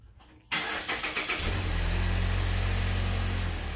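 A car engine cranks with several rapid churning bursts, catches and settles into a steady, close idle as the car is driven out of a garage.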